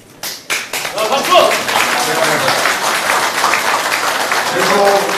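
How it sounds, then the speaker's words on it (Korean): Audience clapping at a Korean presidential candidacy announcement, starting with a few sharp claps and swelling into sustained applause, with voices faintly beneath. "박수!"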